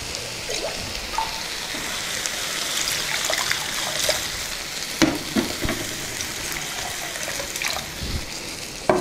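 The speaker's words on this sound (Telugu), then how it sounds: "ఇందులో నీళ్ళు పోసుకుందాం." Water poured into a hot pan of moong dal fried in ghee: continuous loud sizzling and bubbling with a trickling pour and a few scraping stirs and knocks close by.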